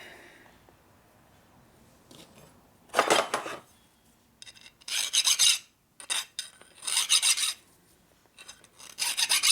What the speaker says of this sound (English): Deburr the flats a little.